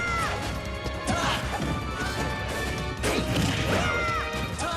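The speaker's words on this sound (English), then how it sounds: "Once he's about to make a hit, you can hear the hit coming." Hard impact smacks and crashes from a Super Smash Bros. Wii U tournament match, several heavy hits landing over busy game music and effects, loud and continuous with whooshing swings between strikes.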